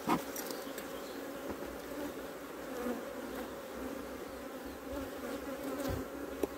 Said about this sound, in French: il y a beaucoup d'abeilles sur ce cadre